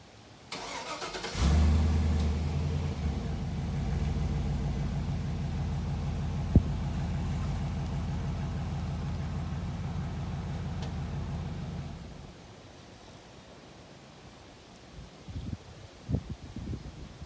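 A truck engine cranks and starts, then runs at a steady loud idle for about ten seconds before dropping to a quieter low rumble as the vehicle pulls away, with a few faint clanks near the end.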